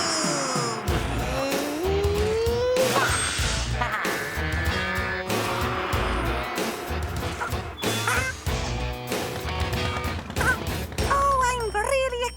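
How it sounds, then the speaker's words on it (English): Cartoon construction trucks roar and squeal their tyres, with revving engines, skids and crashes under bouncy music, loud and busy throughout, with voices at times. "Engines roaring, tyres squealing."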